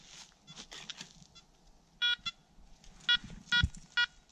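Several short electronic beeps from a Makro Multi Kruzer metal detector in the field, loud and close, sounding in quick bursts with brief gaps, over a low background rumble and some faint shuffling.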